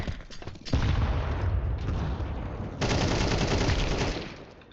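Rapid bursts of video game gunfire during a Hungarian shooter match, loud and dense with sustained automatic fire, a brief lull, then another heavy volley near the end.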